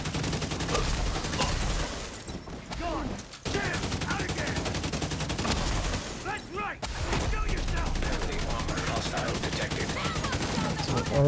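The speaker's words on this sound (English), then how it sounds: "There's a lot of stuff shooting at me now, but also a lot of stuff that I'm shooting at." Video game gunfire, dense rapid volleys of shots and effects rattling continuously at close range, with a few brief lulls, speech mixed in.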